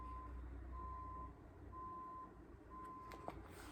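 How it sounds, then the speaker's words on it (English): Steady, evenly spaced reversing beeps sound from a distant truck over a low engine rumble, with a few faint clicks toward the end. "Can you hear that truck in the background turning around?"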